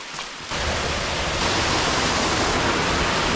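A waterfall on a popular Georgia hiking trail gives a loud, steady rushing roar that starts abruptly and then holds constant and close, with no talking.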